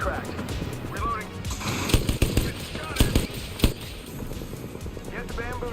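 Gunfire in a shooter video game: sharp shots and short bursts crack out several times, loudest in the middle, while a voice talks over the action.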